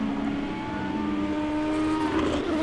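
Race car engine in a sim racing game, a steady droning whine held under braking and then rising slightly as it powers out of a corner, continuous and fairly loud.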